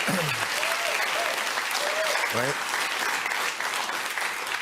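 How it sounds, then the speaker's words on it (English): An audience of elderly people applauding, a dense, steady wash of clapping that fills the whole stretch, with brief voice-like tones rising over it near the start. "an audience of other old people that are like clapping for this"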